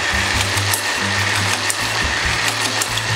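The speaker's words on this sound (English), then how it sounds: "I'm going to whisk this cream a bit to a soft peak consistency" Coconut cream being whisked to soft peaks in a bowl, a steady, fast rhythmic whirring of the whisk running close and loud without a break, with no talk over it.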